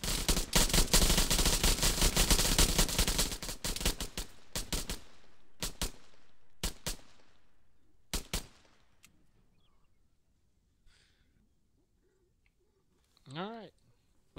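A loud volley of rapid automatic gunfire from guardsmen in Arma 3, sustained for several seconds and then breaking into a few scattered final shots before quiet, with a whistling tone near the end.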